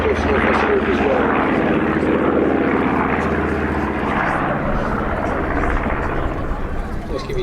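A vintage military propeller aeroplane flies at Sywell Aerodrome airshow, its engine a loud steady drone throughout with a commentator speaking over it.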